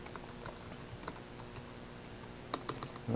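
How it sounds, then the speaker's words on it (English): Password being typed on a computer keyboard, a quiet scatter of separate key taps followed by a short faster burst of keystrokes near the end, close and alone with no speech. "let me type in the password."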